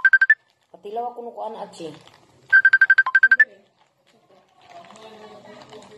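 A phone ringtone plays as an incoming call arrives: two bright, trilling bursts of rapid repeated beeps, close and loud. Someone talks between the rings and afterward.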